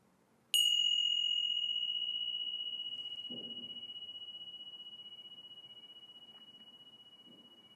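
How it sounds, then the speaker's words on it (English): A meditation bell is struck once, giving a clear, bright ring that sustains and slowly fades over several seconds in an otherwise quiet room, with a couple of faint soft rustles beneath it. "listen to the sound of the bell all the way to the end"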